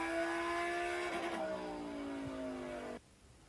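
A car engine drones steadily with a falling pitch, loud and close, then cuts off abruptly near the end, leaving quiet background.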